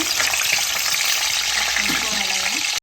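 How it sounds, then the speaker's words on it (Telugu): Green chillies drop into about three spoons of hot oil and fry with a loud, close, steady sizzle that runs unbroken for the whole moment. "ఆయిల్ వేడెక్కింది దీంట్లో ముందైతే పచ్చిమిరపకాయలు వేస్తున్నాను"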